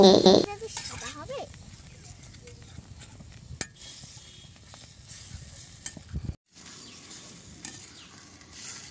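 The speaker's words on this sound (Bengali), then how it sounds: "এবার দিয়ে দেবো টক দই। ভালো করে মশলাটা কষিয়ে নেব।" Spiced masala fries in a pan with sour yogurt for a soybean do-pyaza, heard as soft scraping stirs and a low sizzle with a sharp clatter midway; a brief vocal sound comes near the start.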